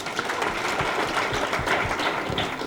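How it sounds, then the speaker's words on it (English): Audience applause at a lifestyle session, a dense, steady patter of many hands clapping at moderate volume with no speech over it. "Can you clap for New Life?"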